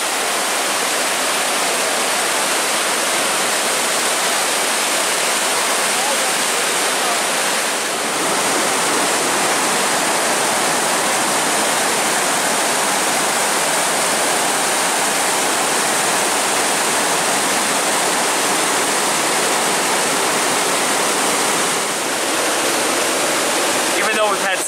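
Hull's Creek Falls in winter, a high-volume waterfall roaring steadily nearby with dense continuous rushing water that holds loud and unbroken throughout, no other sounds standing out.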